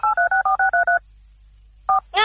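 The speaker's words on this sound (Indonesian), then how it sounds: "Coba telepon lagi." Touch-tone telephone number being dialed: seven quick, evenly spaced DTMF beeps, a pause, then two more tones, loud and clear with no talking.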